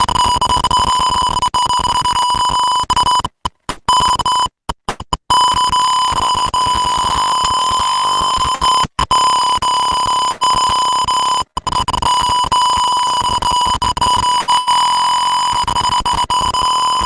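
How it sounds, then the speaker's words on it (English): A gas sensor alarm sounds a loud, piercing, steady electronic tone close by, continuous except for a few brief dropouts. "there was a loud beep sound with a message displaying alert, please evacuate, and with red LED on"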